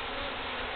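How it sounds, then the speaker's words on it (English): Feral honeybees at a hive cut-out make a dense, continuous buzz, loud and close, unbroken across the brief moment with no voices. "Man, there are a ton of bees here."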